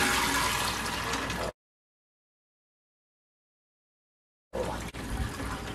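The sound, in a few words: draining water from soaked navy beans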